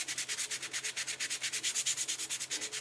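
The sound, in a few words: sanding with a 220 grit sanding block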